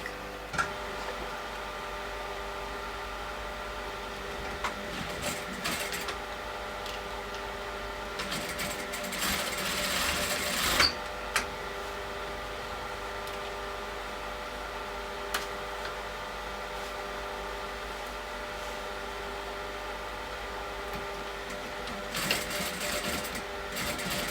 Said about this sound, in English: And now I'm going to stitch this down